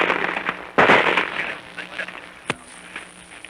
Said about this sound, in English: there's rifles and just everything in the book is going off around this